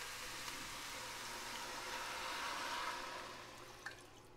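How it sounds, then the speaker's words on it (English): Water running steadily into a cooking pot already holding frozen corn, a continuous close splashing pour that swells slightly midway and then eases off near the end. "So now I'm just gonna add some water."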